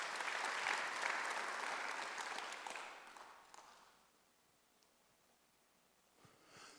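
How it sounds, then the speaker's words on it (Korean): Congregation applause at a Sunday church worship service, a dense sustained wash of clapping that is loud at first, then thins out and fades to near silence, with a brief faint stir near the end. "박수로 하나 들으시기 바랍니다"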